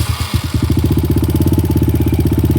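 A 2020 Kawasaki KLX140G motorcycle with KX85 body kit fires up close by with a brief starter churn, then settles into a loud, even, rapid idle thump.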